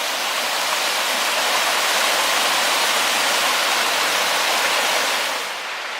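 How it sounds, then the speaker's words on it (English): A cascade on a mountain hiking trail pours in a dense, loud, continuous rush of falling water close by, steady throughout with no voices. "Come across this nice cascade."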